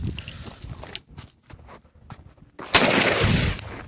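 A Tannerite charge set off against a propane tank outdoors, quiet shuffling and scattered clicks first, then one sudden, loud explosive blast that roars for about a second before fading.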